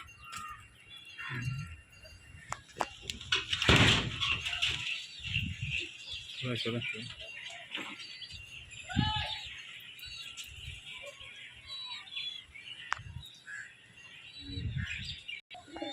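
Pigeons of the Madrasi breed in a loft coo and flutter faintly in the background, with bird calls scattered through the scene while someone talks over them.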